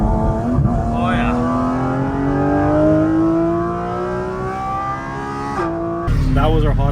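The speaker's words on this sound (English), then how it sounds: "That was our hot lap in the GT4 RS." A Porsche GT4 RS screams through a hot lap on a track, its engine rising steadily in pitch through a long gear, then a quick shift and more hard revving, with voices talking over it briefly.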